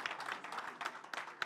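Audience applause at a French event presentation, a dense patter of many hands clapping at moderate volume with a few sharper claps standing out, no voices over it.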